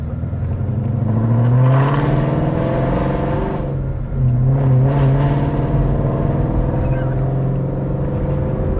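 A supercharged 862bhp Mustang GT at tick-over through a loud, valveless exhaust, a deep lumpy rumble that holds steady and close, with two slight swells in the burble.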